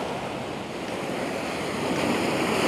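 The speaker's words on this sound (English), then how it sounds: "there's a ledge that the waves crash over" Ocean waves surge and crash over a coastal ledge beside sea defences, a continuous loud roar of surf with wind noise, building slightly toward the end, no voices.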